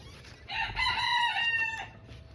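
A small naked neck Turken hen in a backyard coop lets out a single drawn-out, strained call lasting about a second and a half, close and loud against quiet surroundings.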